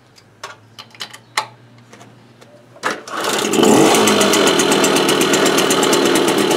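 A small Motobécane AV7 engine with breaker-point ignition, tried without choke: several sharp clicks and knocks, then it catches and runs loudly with a fast, even, buzzing rattle close by.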